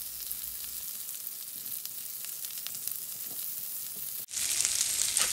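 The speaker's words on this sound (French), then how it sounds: "je les retourne pour les caraméliser de l'autre côté" Fennel slices frying and caramelizing in a pan, a steady soft sizzle throughout that cuts out briefly and returns brighter and louder near the end.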